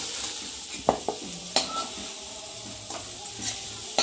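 Cauliflower pieces fry in oil in a pan, with a quiet sizzle under intermittent scraping and stirring clicks from a utensil against the pan, close up.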